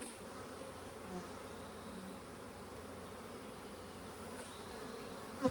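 Honeybees crawl over a hive frame while being moved between boxes, giving a steady, close, even hum of many wings with no voices and a single brief knock at the end.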